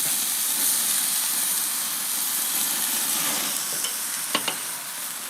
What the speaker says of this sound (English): Got a nice sear on both sides.